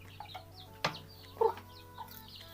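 Backyard chickens with a feather-picking problem cluck and chirp in short, scattered calls at close range, over a steady low hum.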